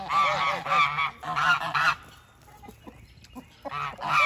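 A goose at a farm animal sanctuary gives a series of loud, close, nasal honks in quick bursts, pauses with faint background rustling, then honks again at the end.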